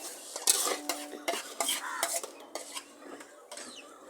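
A utensil scrapes and clanks around a pan of chicken curry with milk and tomato paste, in a series of close stirring strokes over a light sizzle.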